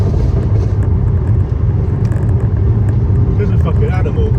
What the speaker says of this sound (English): all four wheels spinning.